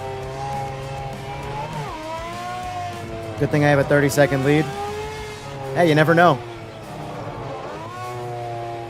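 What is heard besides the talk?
Group C race car engine in Project Motor Racing video game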